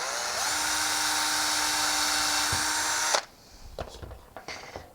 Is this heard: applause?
no